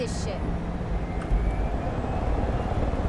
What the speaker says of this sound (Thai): ยังไงก็ขอเรียกฮอก่อน เฮลิคอปเตอร์ คันโปรด